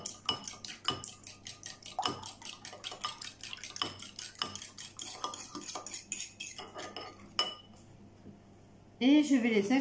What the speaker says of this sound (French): Je vais les battre en omelette.